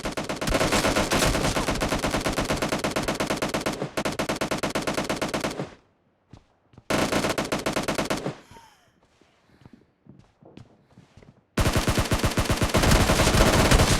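Rapid automatic gunfire from the video game PUBG Mobile, loud sustained bursts that stop briefly, then a quiet gap with faint clicks and handling noises before heavy firing resumes.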